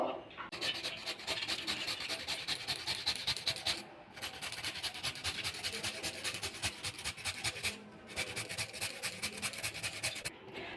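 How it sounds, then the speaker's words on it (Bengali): Carrot and potato being grated by hand in a kitchen, rapid rhythmic rasping strokes in three long bursts separated by short pauses, close and fairly quiet. "প্রথমে আলু আর গাজরটা গ্রেট করে নেবো"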